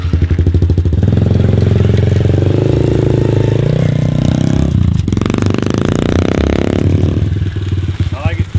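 Engine of a built-up Honda CRF 110 dirt bike running loud and close, a steady buzzing idle that rises into a revving surge partway through, with voices talking over it.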